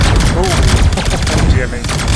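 A missile barrage in the space strategy game Star Drive 2 fires as dense, loud, continuous rapid weapon fire, crackling and booming all the way through.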